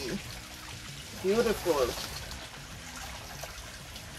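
Water trickles steadily over a freshly repotted Dendrobium orchid, a soft continuous pour running throughout while a voice speaks briefly partway through.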